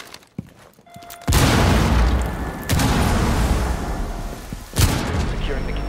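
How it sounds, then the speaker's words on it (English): A grenade blast in Rainbow Six Siege lands as a heavy, loud boom with a long rumbling tail, followed by a second burst and a later sharp hit, after a few quieter clicks. "Got a grenade out."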